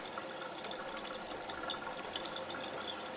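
Water from a Jupiter Neptune/Mavello JP-101 water ionizer runs into a test tube, a steady soft hiss of flowing water, fairly faint and unbroken throughout.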